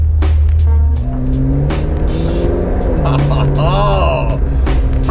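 A car accelerating as the gas pedal is pressed, engine droning loud and close with a rising rev sweep near the end, while people talk over it.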